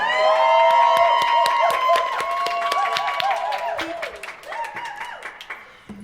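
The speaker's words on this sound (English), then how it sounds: "everyone give it a round of applause for Kevin." Applause and scattered cheers from a small live-music audience greeting a singer, with sustained harmonic tones ringing over the claps before fading into lighter clapping and voices.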